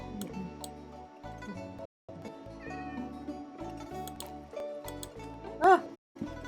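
A cat in Minecraft gives a single short meow near the end, over soft game music and ticking sounds, with a person talking quietly in the background.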